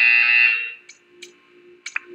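Portal 2 test-chamber buzzer: a steady electronic alarm tone sounds loudly for about half a second, then fades, followed by a few short synthetic chirps and beeps.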